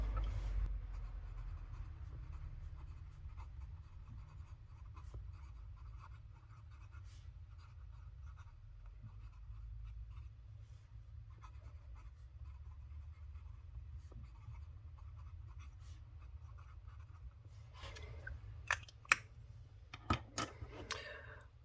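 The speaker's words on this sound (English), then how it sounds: "this pen isn't fancy, but I really like how the nib writes" A medium-nib fountain pen writes on Amazon Basics paper with a faint, soft scratching that continues steadily through a quiet room, then gives way to a few sharp taps and clicks near the end.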